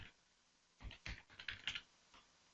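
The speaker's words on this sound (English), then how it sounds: "I can start typing it right away." Typing on a computer keyboard during an ArcGIS map layout demo in ArcMap, a quick burst of close, faint key clicks in an uneven rhythm, with no voice.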